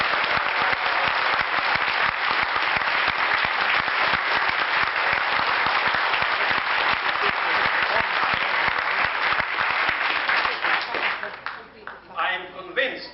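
Conference audience in London gives a long round of dense applause that holds steady, then thins and dies away near the end as a voice begins speaking.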